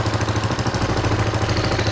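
Running Suzuki GN 125 sidecar motorcycle engine with a leaky exhaust and an open crankcase hole, a steady close, loud low mechanical drone throughout with no talking.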